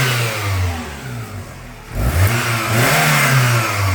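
A Toyota Camry engine with a carbon fiber intake and mechanical throttle idles and then revs up in two rising pulls, the pitch climbing and settling with a throaty roar, close by.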